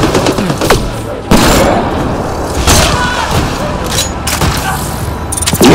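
Gunfire in the sci-fi shooter Mass Effect: Andromeda on the desert world Elaaden, with loud booming shots and short bursts repeating throughout, close and heavy.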